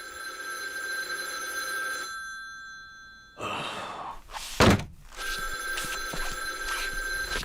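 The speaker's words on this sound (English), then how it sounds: "as the doctor is about to leave, the phone rings" A telephone rings in the stop-motion cartoon Moral Orel, a bright electronic ring that sounds at the start and again near the end, with a sharp sigh or gasp in between.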